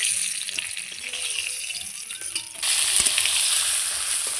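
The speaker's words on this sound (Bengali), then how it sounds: "পিঠটা খুব সুন্দর করে লাল লাল করে ভেজে নিয়েছি।" Rohu fish heads frying in oil, a close, steady sizzle that jumps louder and brighter partway through as the pan gets busier, with faint clinks and no voices.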